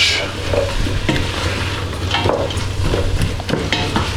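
Celery, garlic and other vegetables fry in oil with tom yum paste for a low-calorie soup, a loud continuous close sizzle broken by repeated scraping stirs of a utensil in the pan.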